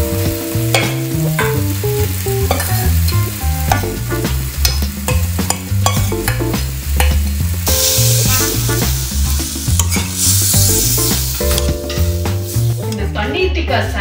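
Paneer and capsicum fry in a pan until golden and crisp, a steady sizzle with frequent stirring scrapes under a tonal, rhythmic backdrop.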